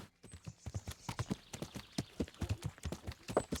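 Close, steady clip-clop of Pebbles the horse in Kingdom Come: Deliverance, hooves striking in a quick continuous rhythm while climbing rough mountain ground, alone without talk.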